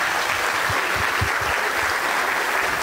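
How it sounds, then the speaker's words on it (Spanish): An audience applauding a symphonic band at its 22nd anniversary concert in La Unión, Antioquia, a steady, loud roar of many hands clapping evenly throughout. "otro aplauso para ellos,"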